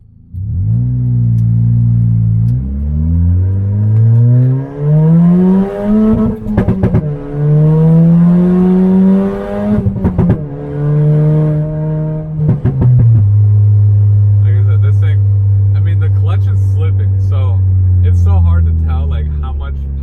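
A turbocharged Toyota Corolla engine revs and accelerates through several gears, a loud droning rise in pitch broken by brief shift dips, then settling into a steady hum with someone talking over the engine.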